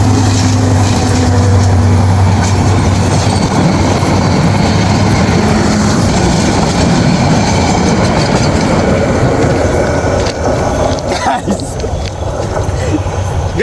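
A train thunders past very close on a railway track where a coin has been laid on the rail, a loud continuous roar with rhythmic wheel clatter, while people talk.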